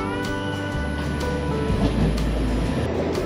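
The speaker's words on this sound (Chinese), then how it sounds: "8点36分的火车进站了" A train pulls into Tanwen station, a century-old Japanese-era wooden station under renovation, heard from the platform as a steady rumbling roll with rail clatter and a few sharp clicks.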